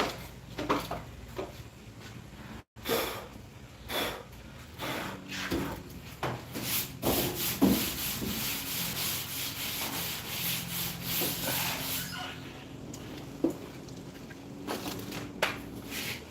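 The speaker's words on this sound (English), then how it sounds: "I'm keeping it firm to the car. I'm letting the sandpaper do the work" Body filler on a car is hand sanded with sandpaper on a sanding file, giving close, steady rasping strokes that repeat in a rough rhythm with no talking.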